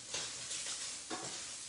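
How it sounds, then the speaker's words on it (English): Pancetta frying in a pan while being stirred for spaghetti carbonara, a soft continuous sizzle with a few scraping stirring strokes, quiet and close with no talking. "Let me stir this again."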